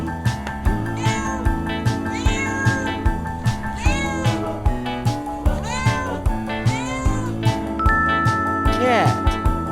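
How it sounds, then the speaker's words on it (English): A cat meows repeatedly, a series of rising and falling mews sounding over a bouncy, rhythmic music track throughout. "Cat."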